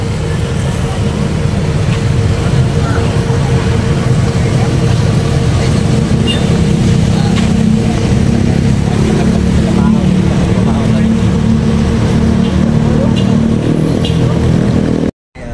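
A vehicle engine runs steadily and close by, a loud, continuous low rumble that persists until a sudden cutoff near the end, with people talking over it.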